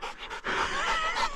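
A young dog pants rapidly and close up out on the Montana prairie, with quick, rhythmic breaths that dip briefly before resuming, and no talking.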